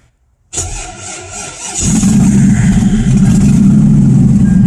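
LSX swap V8 engine cranking and firing up, a sharp starter whir that catches into a loud, steady rumbling idle close by, with no talk over it.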